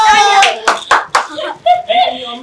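At a busy Eidgah in Aurangabad during Eid 2024, a few sharp, close hand claps ring out as children receive gifts, scattered among excited voices talking nearby.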